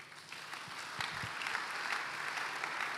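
A church congregation at a Sunday service claps and cheers together, a steady, continuous wash of applause that holds at an even level throughout, with no speech over it.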